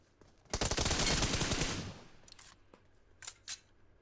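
A rapid burst of video game gunfire rattles for about a second and a half, then fades, followed by two short sharp shots.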